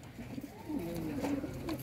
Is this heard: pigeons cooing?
yes